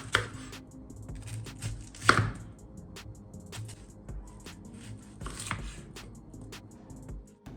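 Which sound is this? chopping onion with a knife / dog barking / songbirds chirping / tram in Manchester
chopping onion with a knife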